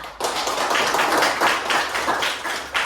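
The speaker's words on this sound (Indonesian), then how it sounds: "tepuk tangan dulu semua ya" Classroom students clap together in a rhythmic, steady burst of applause, fairly close and loud, filling the room for a few seconds without any talking.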